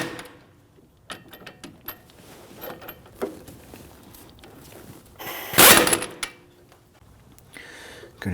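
Brake caliper bolts on a 2013-2019 Ford Interceptor Utility being run down with a ratchet, a series of close, sharp clicks and metallic clatters with irregular spacing and one louder burst, no talking.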